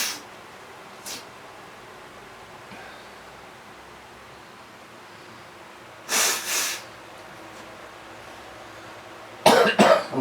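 A person's coughing fit while watering orchids, with faint coughs early on, a louder double burst of coughing midway, and a final cluster of harsh, close coughs at the end against quiet room noise.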